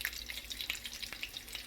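Bacon frying in a pan over slightly below medium heat, a soft, steady sizzle with scattered small pops and crackles, close and continuous, with no talk.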